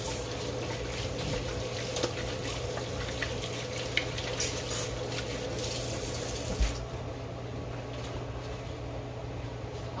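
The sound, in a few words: washing hands under running tap water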